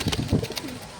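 A breeding pair of pigeons coos close by, a few soft, low throaty pulses in quick succession.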